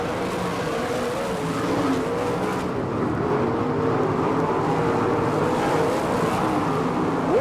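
Sprint cars and UMP Modified race cars roar down the front stretch of a racetrack in Lima, Ohio, a loud continuous engine drone that swells as the pack passes, heard alone without talk.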